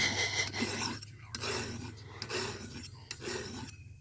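A file cuts a groove into soft, unhardened steel, with a few long, close rasping strokes separated by brief pauses.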